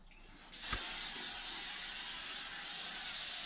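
A can of cooking oil sprays in one sudden sustained hiss that begins abruptly and runs on steadily to the end, close and fairly loud, with no speech.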